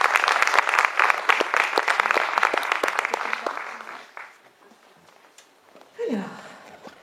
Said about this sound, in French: On peut tous les applaudir très fort.